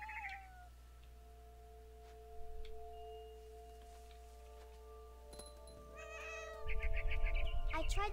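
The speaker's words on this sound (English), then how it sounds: "I was a cat." A cat meows in the video game What Remains of Edith Finch, a few short meows and chirps over a quiet tonal game soundtrack, followed by louder rustling movement near the end.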